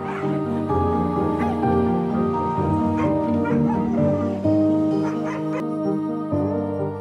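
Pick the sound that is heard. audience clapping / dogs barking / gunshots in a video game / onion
dogs barking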